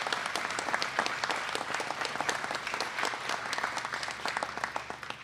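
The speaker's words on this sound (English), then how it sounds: "Give our farm industry a nice round of applause" An audience at a governor's food bank visit applauds with continuous, steady clapping from many hands throughout, nearby and fairly loud.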